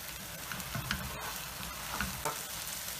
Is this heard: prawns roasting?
yes